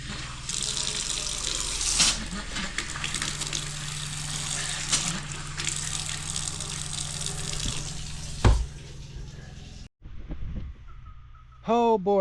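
An electric water pump at a property under renovation runs while water flows steadily through the plumbing. The rush stays continuous and fairly loud for several seconds, with a sharp knock partway through, a brief cutoff, and then a few scattered noises.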